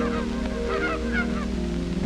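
Geese honking on still ponds and quiet lakes, a dense steady chorus of many birds calling together continuously, close and fairly loud, with no voices.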